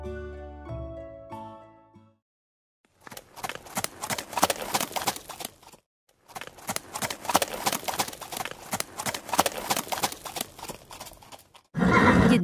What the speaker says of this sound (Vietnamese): Nhìn xem, con ngựa đã lấy lại được phong độ rồi.